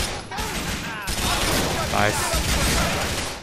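A shootout in GTA IV with dense, rapid gunfire and sharp cracks layered over a rumbling battle, and a voice speaking briefly over the shots.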